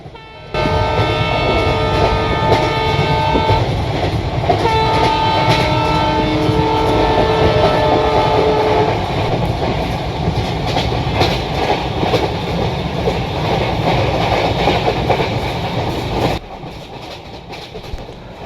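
Kottayam-Nilambur Express (16326) in the Railworks train simulator, a loud steady rumble of the running train with clickety-clack wheels, a sustained horn blast early on, fading to quieter noise at the end.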